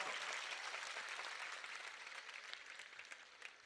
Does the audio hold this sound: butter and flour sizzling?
no